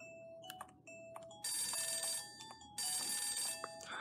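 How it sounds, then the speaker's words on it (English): A telephone in the video game Imagine: Babyz rings in electronic bursts, two short chirps followed by two longer trilling rings, clear and fairly close, mixed with faint game tones and no talking. "Phone."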